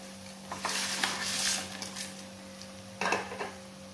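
Potatoes tumble into a frying pan for Indonesian sambal goreng kentang, bringing soft sizzling and a few close scraping stirs, with a second burst of clatter near the end over a steady hum.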